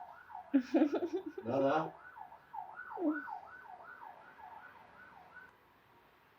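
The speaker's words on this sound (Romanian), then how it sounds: "Vine salvarea către voi, frații mei." An ambulance siren wails in a steady repeating up-and-down cycle, passing at moderate distance and fading slightly toward the end, while someone speaks briefly over its opening seconds.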